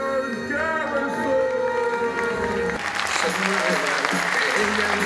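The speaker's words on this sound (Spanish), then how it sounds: "Recibimos con un fuerte aplauso al señor Christopher Garrison" Audience applause greets performer Christopher Garrison at his anti-magic stage show: music plays alone at first, then a burst of clapping rises over the music and carries on to the end.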